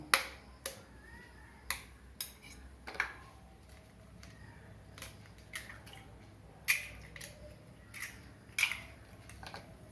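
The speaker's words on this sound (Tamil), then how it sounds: "இப்போ இந்த ரெண்டு முட்டையை உடச்சி மிக்சி ஜாரில் போட்டுக்கணும்" Two eggs cracked into a mixer jar make a series of sharp, quiet taps and cracks at irregular intervals, each a short crisp click against near silence.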